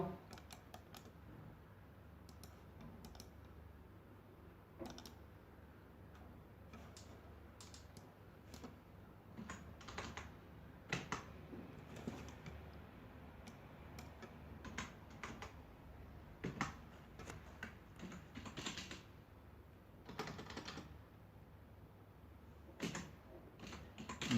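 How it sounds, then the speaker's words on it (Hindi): Faint, scattered computer keyboard clicks, with light irregular taps and pauses over a low steady background hum, while text is typed in Adobe Photoshop. "इसके ऊपर मैं टेक्स्ट लिख देता हूं।"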